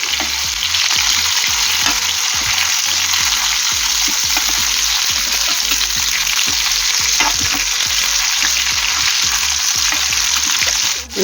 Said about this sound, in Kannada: ಒಂದು ನಿಮಿಷ ಫ್ರೈ ಆಗಲಿ. ಮೀಡಿಯಂ ಫ್ಲೇಮಲ್ಲೇ ಇಟ್ಟಿದ್ದೇನೆ.